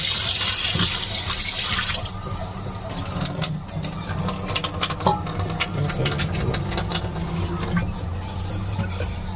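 Water pours into a pot for pork bone soup for about two seconds, loud and close, then gives way to clattering, clinking handling noises and faint background rumble.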